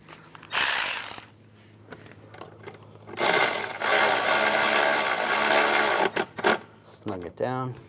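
Ratcheting clicks and metallic mechanism noise from a bracket bolt being snugged down on a 2010-2016 Cadillac SRX engine, loud bursts of rapid ratchet activity with brief pauses, close by and without speech.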